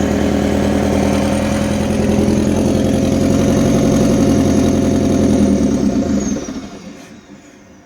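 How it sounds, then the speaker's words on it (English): Excavator diesel engine running loud and steady with a turbo spooling up, a continuous close rumble that drops away and fades near the end. "That turbo seems to have only got going there now."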